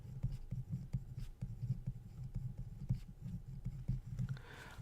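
A pen scratching steadily on paper while a calculus derivative is written out, with close, continuous strokes and small rhythmic taps.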